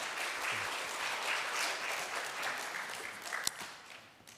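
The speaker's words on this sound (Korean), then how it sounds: "다시 한번 우리 환영의 박수 해주시면 감사드리겠습니다." A church congregation applauds in welcome during a Sunday worship service, a soft, moderately distant spread of clapping that continues throughout and ends with a sharp knock near the end.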